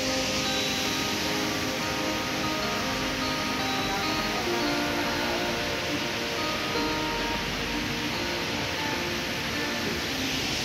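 A waterfall gives a constant, even rushing roar that fills the whole span without pause, heard from nearby with no other distinct sounds.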